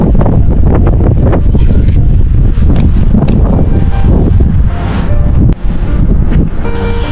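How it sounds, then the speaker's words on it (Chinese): A strong, gusting west wind blows at a lakeside campsite beside Qinghai Lake in winter, roaring loudly and continuously into the microphone with heavy buffeting and no talk. "今天依旧还是刮了很大的西风啊！"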